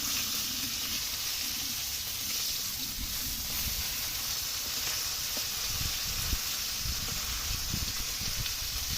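Fish fries in hot oil with a steady, close, continuous sizzle and hiss, broken by occasional soft bumps and stirring knocks in the second half.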